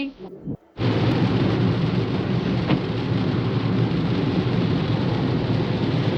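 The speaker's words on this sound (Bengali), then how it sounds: "সকাল থেকে আজ শুধু কেবল বৃষ্টি" After a brief muffled opening with faint voices, heavy rain bursts in and pours as a loud, steady broadband roar, with a deep low-end rumble like distant thunder beneath it.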